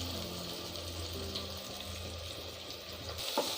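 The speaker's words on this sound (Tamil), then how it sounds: "புதினா நல்லா ஃப்ரை ஆன உடனே இஞ்சி பூண்டு பேஸ்ட் ஆட் பண்ணிடலாம்" Mint leaves frying in a pan for paneer pulao give a steady, faint sizzle and hiss with a low hum beneath, ending in a brief clink near the end.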